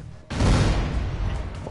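Grenade blast in the video game Broforce, one sudden loud boom that breaks out of near quiet and keeps rumbling and crackling for over a second, with no talking over it.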